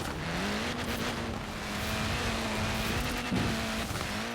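Koenigsegg hypercar in the racing game Forza Horizon 4, its engine holding a steady droning pitch under continuous road and tire noise, loud and close, with a brief rise near the end.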